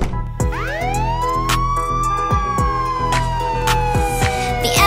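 A loud electronic ambulance siren wails, rising and slowly falling in pitch, while rapid clicking ticks run steadily underneath.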